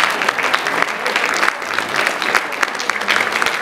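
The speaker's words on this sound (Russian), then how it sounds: "Аплодисменты!" Warm applause from a concert audience greeting a performer at a choir show, dense steady clapping filling the hall for a few seconds without a break.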